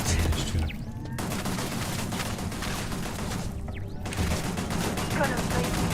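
Turret gunfire in Starfield crackles as a dense, continuous fusillade of rapid shots lasting throughout, loud and close, with a few short lulls and bursts of low booms.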